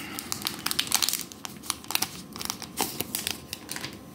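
Crinkly plastic wrapper of a basketball trading card pack being torn open and crumpled, a Panini Mosaic pack, with close, sharp irregular crackles and rustles at low volume and no talk.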